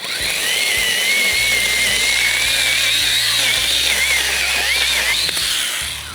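A chainsaw runs in the middle of a forest, its loud, high, whining motor rising and falling in pitch as it revs steadily, close by and alone.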